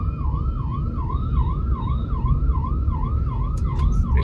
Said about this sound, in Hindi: अब एम्बुलेंस वाले अंकल निकल ही नहीं रहे